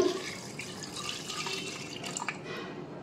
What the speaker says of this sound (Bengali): এর মধ্যে আমি দিয়ে দিব জল।